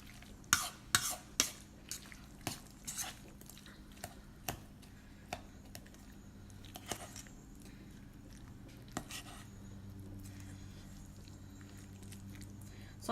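Ripe avocados being mashed with a fork in a pan give a run of close, soft taps and squelchy scrapes, sharper strikes early that grow sparser and quieter, with no talking.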